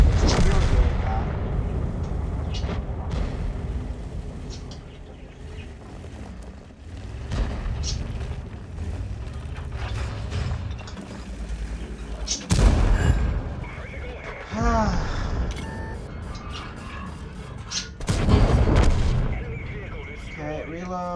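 Tank guns fire in World of Tanks gameplay with a Tier 9 British Tortoise tank destroyer. Heavy booms, two of them especially loud, punch through battle rumble, while someone talks over the action.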